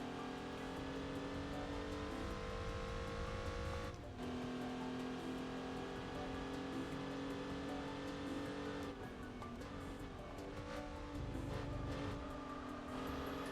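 An Audi A3 with the VR6 powertrain of the 2006 Golf R32, driven in Gran Turismo 4, its engine revving and holding steady tones with brief lifts between gear changes, loud and continuous.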